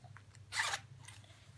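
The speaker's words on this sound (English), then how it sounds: "when I open the zipper," A short wallet zipper being pulled open close by, one quick rasping burst in a quiet room.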